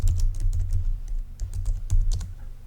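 Rapid keystrokes on a computer keyboard while cleaning up a site takeoff drawing in CAD software, a close, steady run of crisp clicks over a low room hum.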